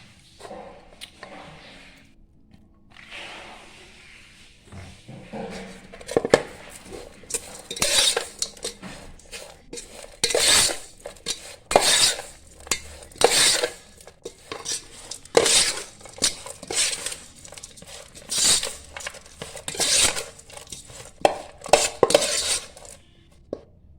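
Food for a local home-cooked dish is scooped onto a plate, with a spoon clinking and scraping against the dish in repeated bursts. The strokes come up close over a quiet background.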